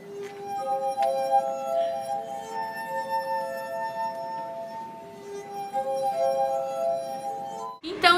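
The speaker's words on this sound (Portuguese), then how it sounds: "o som que a taça faz quando a gente fricciona o nosso dedo molhado nela" A wet finger rubbing the rim of a wine glass produces sustained, ringing glass-harmonica tones that swell and shift in pitch, with a clear clink at the very end.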